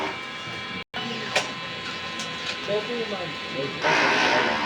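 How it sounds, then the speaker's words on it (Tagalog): DTF printer running a print head cleaning cycle, a steady mechanical whir and hum with brief clicks, a short dropout near the start and a louder rushing burst toward the end, with no talk. "Head clean."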